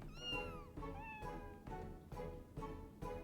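Several cats in Final Fantasy XIV meowing in quick succession, short overlapping mews at a fairly quiet level, with no talk over them.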